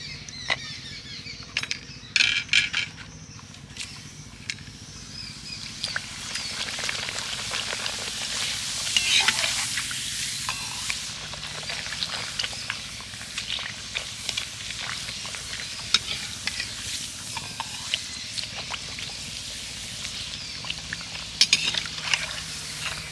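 Papad frying in hot oil, a steady crackling sizzle with stirring and occasional clinks of a utensil against the pan, close and continuous throughout.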